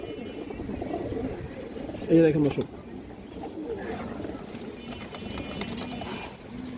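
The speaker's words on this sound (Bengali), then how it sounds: "এই দেখেন দর্শক বুট ঠোঁটের একটা মাদি কবুতর।" A large, restless female pigeon with a boot-shaped beak coos in a few soft bursts near the middle, close by, under steady talk from a man and light background noise.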